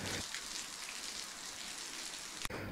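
Heavy rain pours onto smooth stone-slab paths in an old village street, a steady dense hiss of falling water heard alone throughout, with one brief sharp click near the end.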